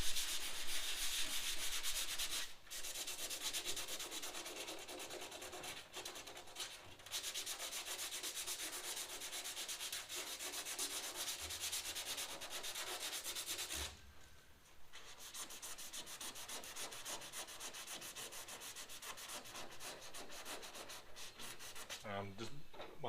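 A car body panel on a Ford XY sedan restoration is sanded by hand over powder guide coat, a continuous close raspy rubbing in steady back-and-forth strokes with a few brief pauses.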